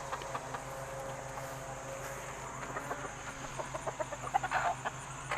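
Hens cluck and call on a small farm, a scattered run of soft, irregular clucks rising slightly toward the end over a steady background hum, with no talking.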